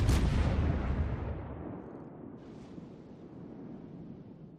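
Warship guns firing in the video game World of Warships, a German Graf Spee cruiser's salvo: one heavy, deep boom at the start, then a long rumbling decay that fades over several seconds.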